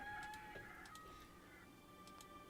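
Chickens cluck and crow in the farm game Where the Goats Are, faint and soft, with a few short bird calls over a steady low background of tones.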